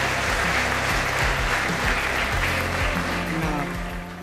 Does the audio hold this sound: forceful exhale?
no